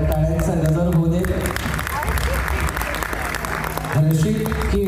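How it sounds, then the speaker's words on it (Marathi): A crowd at an award ceremony applauds a Best Director winner. Sustained clapping swells through the middle while ceremony music plays at the start and returns near the end. "टाळ्यांचा गजर होऊ दे."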